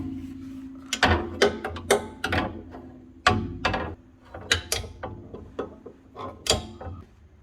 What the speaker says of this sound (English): we use the ratchet with the flexible extension to take it out